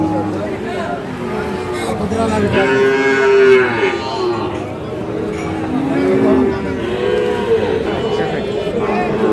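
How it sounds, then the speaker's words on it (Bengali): Sahiwal cattle moo loudly at a livestock market. Several drawn-out lowing calls rise over a constant murmur of voices and crowd noise. "বেশ কয়েকটি গরু আছে"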